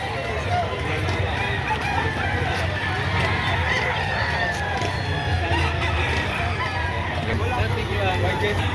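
Chickens and roosters at a Padre Garcia, Batangas poultry market fill a constant crowded din of clucking and crowing, with a murmur of people talking throughout.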